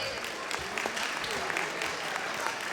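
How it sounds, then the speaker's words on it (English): An audience at a Diwali event claps in a continuous wash of applause, moderately loud and sustained, with voices talking faintly underneath. "A quick long round of applause."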